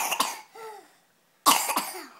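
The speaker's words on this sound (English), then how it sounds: "You should cover your mouth when you cough." A young child coughs in two short bursts separated by a brief pause, with small throaty sounds in between.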